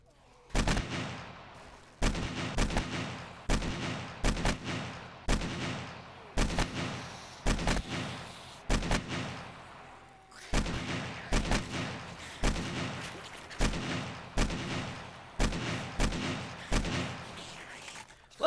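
Loud, sharp gunshots in 7 Days To Die ring out as single shots at a steady, evenly spaced rhythm, each one followed by a short echoing decay, with no speech between them.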